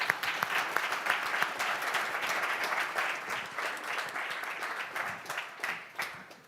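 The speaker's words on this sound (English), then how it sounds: "Let's give them a round of applause." Audience applauding a panel at a vertical farming world congress, a dense, even wash of clapping from many people that continues steadily throughout.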